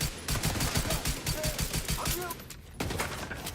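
Rapid automatic gunfire in The Division 2 shooter game, a dense stream of sharp shots in quick bursts with a brief pause near the end before firing resumes, heard alongside other game sounds.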